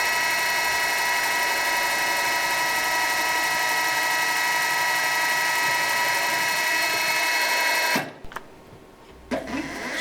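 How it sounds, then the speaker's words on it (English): A small drill whines at a steady high pitch for about eight seconds, drilling a 1/8-inch hole in a Stirling engine part, then stops abruptly, leaving quiet with a brief clatter afterward. "So I'm going to drill out the 1/8-inch hole for the brass tubing"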